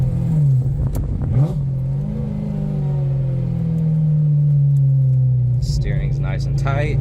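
A 1994 Ferrari 348 Spyder's engine revs through its exhaust, a loud, sustained mechanical drone that swells and falls, with brief sharper revving bursts near the start and end.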